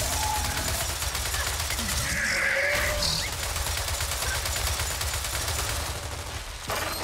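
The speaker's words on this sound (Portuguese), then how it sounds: "Ó, a torreta funcionando" A turret in the video game Gears of War 4 fires a rapid, sustained burst of gunfire. Other battle noise and brief game sounds mix in.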